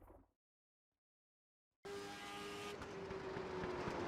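A race car's steady engine drone kicks in abruptly after a brief silence on the New Smyrna track, holding a sustained tone that rises slightly in pitch as the car accelerates.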